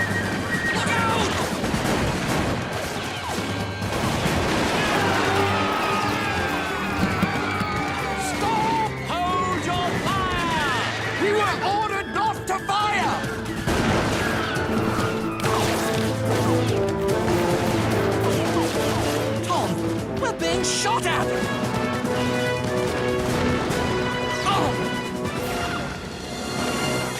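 Gunfire volleys at the Battle of Lexington in a Liberty's Kids cartoon, loud cracks and crashing shots mixed with music and shouting voices through a chaotic, sustained battle scene.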